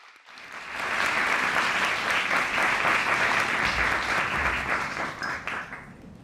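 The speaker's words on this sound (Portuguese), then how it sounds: "Para Rachel, um grande aplauso." A panel audience at Brasil na Vitrine Global applauds Rachel. Clapping swells in over the first second, stays full and steady, then thins out toward the end.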